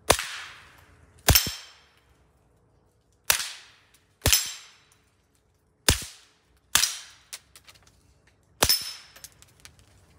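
Gunshots fired at an outdoor shooting range while testing an Olight Osight sight: seven sharp, loud cracks at irregular intervals, each with a brief ringing decay, no talking between them.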